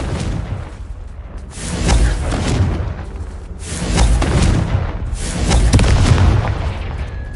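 Repeated Confringo spell blasts in the video game Hogwarts Legacy, several heavy booming explosions spaced a second or two apart over a rumbling bed, loud and close, with no voices.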